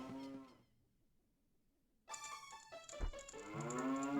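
A cow moos inside a house in Zelda Ocarina of Time, two loud drawn-out game moos separated by a quiet gap, close and clear.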